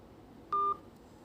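A single short electronic telephone tone sounds during a call being transferred to a Shopee shopping company's service system, a clean steady beep lasting about a fifth of a second over faint background hiss.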